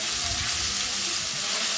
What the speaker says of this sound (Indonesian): Kalau sudah panas, kita mau tumis bumbu sudah tadi kita haluskan.